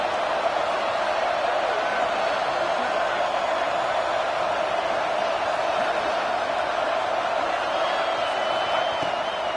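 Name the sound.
Ole Miss football stadium crowd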